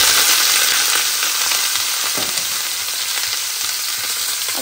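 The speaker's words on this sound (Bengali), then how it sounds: "আমি একটু পাঁচফোড়ন দিয়ে দিব আর পাঁচফোড়নের ভিতরে আমি সবজিটা দিয়ে দিব" Vegetables fry in hot panch phoron in a pan, a loud, close, continuous sizzle with light stirring scrapes, no voices.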